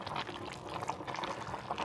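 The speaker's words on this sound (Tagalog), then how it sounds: "Mainit na init. Siyempre, kumukulo." A pot of meat stew with cabbage and pechay boils steadily, a dense bubbling and simmering that carries on without a break at close range, with no voices over it.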